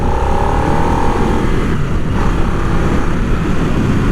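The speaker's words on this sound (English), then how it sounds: "Boy, this is a really nifty motorcycle so far." A Harley-Davidson Nightster in sports mode rides at speed, its engine droning loud and steady under heavy wind rush, with no talk.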